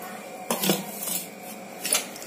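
Spoon scraping and stirring in a metal pan while curry leaves powder is mixed from the bottom up, a few short clinks and scrapes with quiet pauses, close by, no talking.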